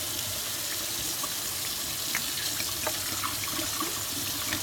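Dogfish Head 60 Minute IPA is poured down a kitchen sink drain while the tap runs, a dense, steady hiss and splash of water with scattered small gurgles and drips, close and continuous, no speech.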